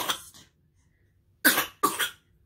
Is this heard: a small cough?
yes